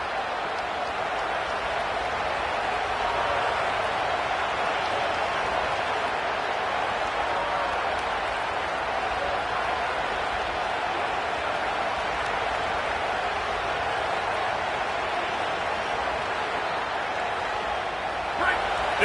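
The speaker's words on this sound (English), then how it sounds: "This crowd trying to make life miserable for this offense." A stadium crowd roars at a USC football game, a dense, steady wash of cheering and noise lasting the whole stretch without letting up.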